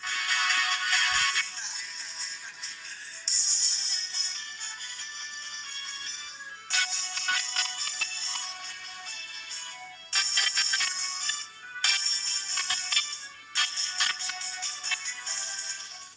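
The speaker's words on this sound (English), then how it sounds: "a quick audio sample of the single downward firing speaker" Music played through the single downward-firing speaker of a Moto G Power 2021 phone, small and tinny, thin and lacking bass, with bright sections that cut in and out.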